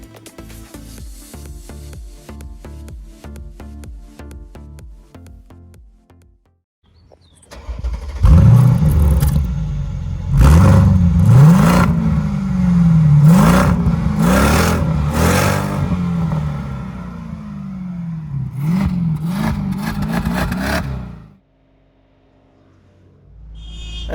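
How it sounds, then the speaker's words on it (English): Mercedes SLK55 AMG V8 on the road: after a quieter idle, the engine surges loudly through repeated revving bursts and gear changes, pitch rising and dropping several times before cutting back to a low hum. "So now let's get the SLK55 on road and see how the car drives."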